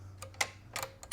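Clicks from the detent lever on a Powerglide transmission valve body being worked by hand: a few crisp, close metallic ticks in quick succession.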